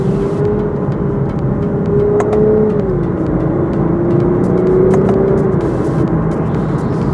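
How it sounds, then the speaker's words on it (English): A Lexus IS350 F Sport engine drones steadily under load, its pitch dipping and rising gently as paddle shifts change the revs, with faint clicks scattered over the continuous hum inside the car. "You get a bit of an engine note when you're revving a little bit higher on the rev band"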